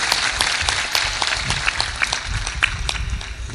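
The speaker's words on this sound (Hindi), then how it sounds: "जोर से मारो ताली, बजाओ एक बार।" A gathered audience at a religious discourse claps loudly, a dense burst of many hands with sharp individual slaps standing out, continuing steadily and close.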